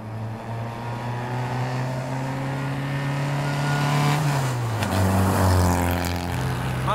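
A 1950 Alfa Romeo Disco Volante's engine drones steadily up close while driving, its pitch rising gradually then dropping at a shift before climbing again, loud and continuous with no talk.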